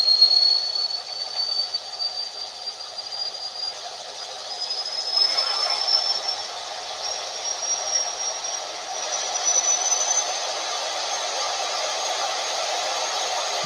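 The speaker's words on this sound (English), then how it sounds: "start hearing that turbo kick in there" A Bachmann HO scale model train locomotive runs steadily with a thin, high turbo whine that climbs gradually in pitch over a constant rolling hum, heard alone without voices.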